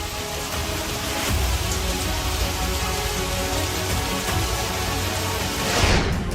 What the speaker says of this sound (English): On one side, rain pours down, while the skies are perfectly clear on the other.